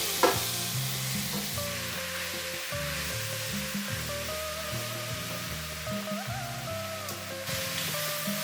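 Rui fish fries in oil with green chilies, turmeric and bay leaves, a steady low hiss and crackle with occasional stirring, fairly faint and continuous, with no one speaking.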